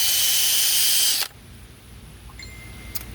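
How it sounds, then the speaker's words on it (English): Dremel rotary tool with a flap wheel reshaping a damaged Redline wheel, a loud steady high whine for just over a second that cuts off abruptly into quiet room noise with a faint click. "this is the flap wheel that I use on the Dremel"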